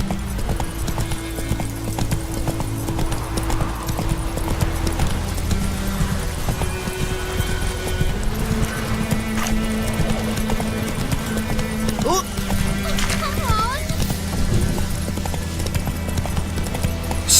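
Hooves of the horse Roach gallop in the Witcher 3 video game with a steady, rhythmic clip-clop, under game music and some speech throughout.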